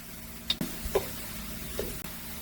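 Two whole heads of garlic sizzle softly in a pan while being stirred, a faint background crackle broken by a few light clinks and scrapes from the stirring.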